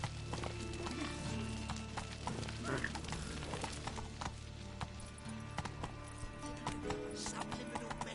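Geralt's horse Roach galloping in The Witcher 3, with rhythmic hoofbeats running steadily under game music and ambient noise throughout.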